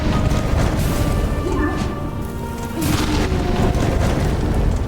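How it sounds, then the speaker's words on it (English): Giant explosions in Hollow Knight: Silksong: dense, continuous booming and crashing blasts with heavy rumble that dip briefly and then surge back, loud and chaotic. "Giant ass explosions."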